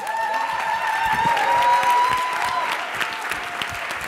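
Audience applause at a Pecha Kucha summit event, sustained clapping from a crowd standing to honor the panelists, steady and dense throughout with a faint sustained tone underneath.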